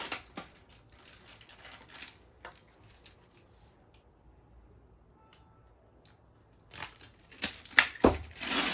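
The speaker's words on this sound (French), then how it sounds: "On enlève notre scotch." Crinkly tearing and crackling bursts of tape being peeled off a Dualtron Victor electric scooter battery pack, scattered at the start and louder near the end, with a quiet gap between.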